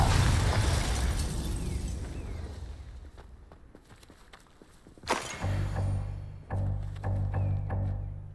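A Confringo explosive spell from Hogwarts Legacy: a fiery blast that fades into quieter crackling, followed by a sharp second burst and a few punchy impacts, with ambient rumble underneath.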